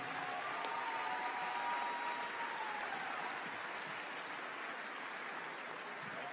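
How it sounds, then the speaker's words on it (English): An audience at the World Jump Rope Championships 2023 claps steadily, a dense, even wash of applause filling a large hall from start to finish, with an announcer briefly audible under it. "please make a warm applause for the Asia Jump Rope Union and Michael Chan."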